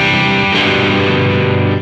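A heavily distorted, clipping guitar amp tone from Amplitube 5 rings out as one sustained, dense chord, loud and close, with no talk.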